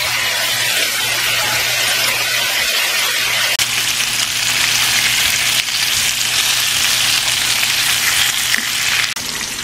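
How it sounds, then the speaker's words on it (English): Two packs of bacon fry in a big skillet, a loud, dense, continuous crackling sizzle close up with no voices. "So that is the biggest skillet in the house, and I have 2 packs of bacon I need to cook"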